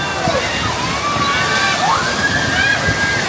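Water sloshing and splashing over riders on a theme park water ride at Universal Studios Florida, a continuous rushing wash with excited voices and squeals over it.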